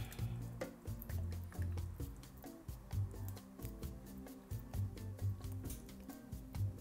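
Condensed milk pours into a mix of milk or liquid cream for homemade rum cream liqueur, a thick liquid sound with soft glugs and drips that continues steadily and fairly close, with no talk over it.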